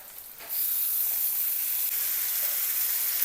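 Mutton hits a hot pan with browned onion, turmeric and chopped coriander, setting off a sudden loud hissing sizzle that carries on steadily and close, with no voices.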